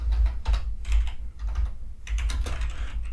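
Someone types on a computer keyboard while writing a code comment. Quick, irregular bursts of key clicks sound close and clear, with brief pauses between them and no talking.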